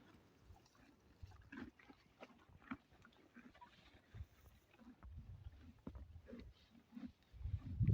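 Horses munching and rummaging through hay, with soft irregular crunching, rustling and shuffling close by, growing louder toward the end and with no talk.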